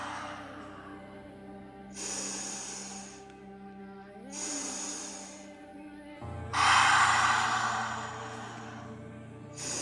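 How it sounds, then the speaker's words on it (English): Slow breaths during a breathwork session, three long airy exhales with quieter pauses between them, the last one louder and fuller, close and calm with no talk. "Exhale."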